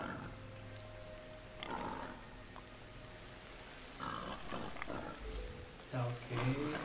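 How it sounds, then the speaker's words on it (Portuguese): A giant wild boar in Ancestors gives a series of low, rough grunts in short separate bursts, fairly faint over a steady ambient background with a quiet outdoor wash. "Porco selvagem gigante."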